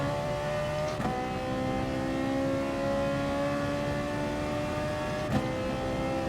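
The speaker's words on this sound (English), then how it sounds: "It sounds like a Ferrari, in my opinion." A sustained car engine drone in the racing game GT Sport, steady and high-pitched like a Ferrari, with a couple of brief clicks.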